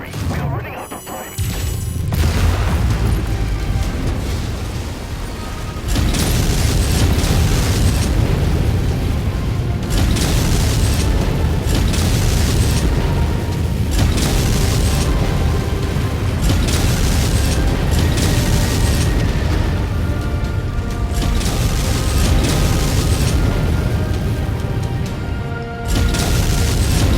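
Repeated explosions and heavy booms from battle in MechWarrior 5: Mercenaries as relay targets are destroyed, loud and sustained across the whole stretch with a dense rumbling low end and bursts layered over one another.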